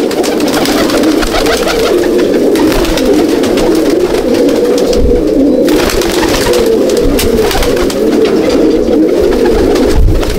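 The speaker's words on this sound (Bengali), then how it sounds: "কেমন লাগলো পায়রাগুলো" Malbai/Panjabi pigeons coo loudly and continuously in a loft, many overlapping low, throaty calls close by with no talk.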